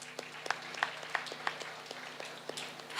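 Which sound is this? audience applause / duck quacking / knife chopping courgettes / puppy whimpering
audience applause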